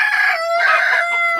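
Chickens perched on top of a bus roof in the afternoon heat give a loud, close, harmonic crowing call that lasts just over a second, with no talk.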